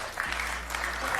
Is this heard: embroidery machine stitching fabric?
no